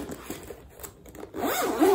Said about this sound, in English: It is double zippers.